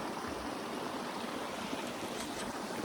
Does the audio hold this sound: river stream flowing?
yes